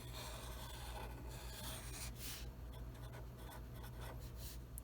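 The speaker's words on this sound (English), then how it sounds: "I'm going to write it on the side." Faint scratchy strokes of writing on a board come in short bursts with pauses between them. A low steady hum from the room sits underneath, and there is no talking.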